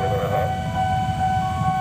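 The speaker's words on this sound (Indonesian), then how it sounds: "Ini dia juga masuk KRL dari arah Cikoreng menuju Kampung Benden." A KRL commuter train arrives on a line between Cikoreng and Kampung Benden: a steady rumble of rolling wagons beneath sustained, horn-like tones, close and continuous throughout.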